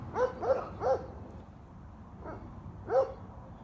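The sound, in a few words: dogs barking in a neighborhood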